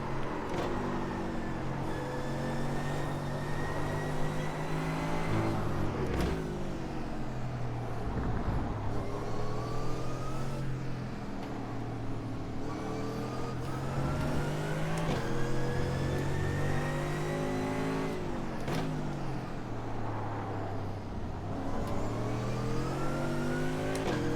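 A GT3 race car engine at Interlagos in iRacing, revving loudly and continuously, pitch climbing through the gears with sharp shifts and dropping under braking, close and alone with no talk.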